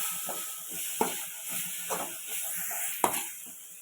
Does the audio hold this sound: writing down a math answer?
no